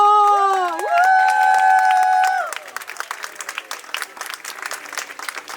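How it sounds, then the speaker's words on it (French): Applause with cheers and whoops from parents and family for the graduates of a daycare graduation ceremony, opening with a sustained high chorus of shouting voices, then settling into steady clapping from a crowd. "Applaudissons pour nos finissants!"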